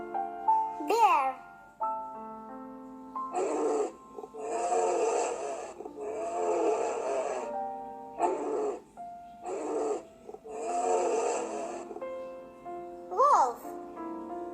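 Children imitate a bear's growl in a grade 2 animal-sounds lesson: four rough, noisy vocal bursts of a second or two each, spaced out over a steady tonal musical backdrop.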